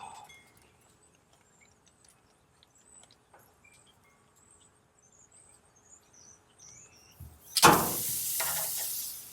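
Chipotle-marinated pork hits a pan on a high burner, a loud sudden sizzle that rushes in near the end and holds steady, after a long quiet stretch with faint bird chirps and small kitchen clicks.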